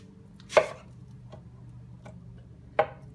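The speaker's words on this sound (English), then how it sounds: "I cut it in half." Two distinct knife chops through a potato on a cutting board, close and sharp, separated by a couple of seconds, with faint small taps between them in a quiet kitchen.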